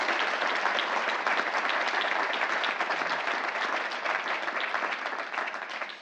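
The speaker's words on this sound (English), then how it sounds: "David Sonny Lacks, let's welcome him warmly with a hand clap." An audience gives David Sonny Lacks a warm welcome with a steady wash of hand clapping, sustained and even before tapering slightly at the end.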